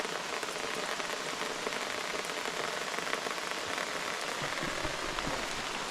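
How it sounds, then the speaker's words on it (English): Rain falls steadily outside a camping truck on a wet morning, a dense, constant hiss of drops on surfaces with no pauses and no voices. "Rainy day. Yep, another rainy morning."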